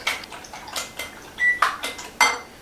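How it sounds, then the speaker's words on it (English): Eggs are beaten in a bowl with a utensil, giving a run of rhythmic clinks and scrapes against the bowl, about eight distinct strokes at a brisk, uneven pace, close and moderately loud. "I'm just going to beat up my eggs."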